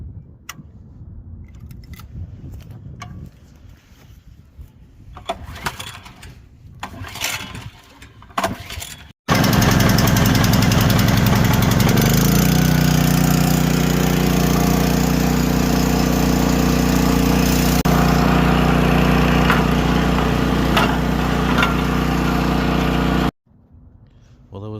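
A small engine is yanked with a few quick pull-start tugs amid mechanical rattling, then roars into a loud, steady run for about fifteen seconds before cutting off abruptly.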